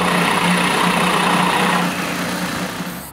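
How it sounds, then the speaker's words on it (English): A power drill bores a hole into the top of a freshly turned wooden piece, a steady, loud, close motor whine that holds for about two seconds and then tapers off. "I drill a hole on the top of my new turn piece, which will help to hold the top ball."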